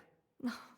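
A character named Henry in the video game Dance of Death gives a single short, fairly close sneeze after a quiet moment.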